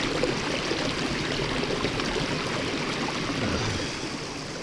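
A mountain stream flows in Dolly Sods, West Virginia, a steady, fairly close rush of water that holds even throughout and eases slightly near the end.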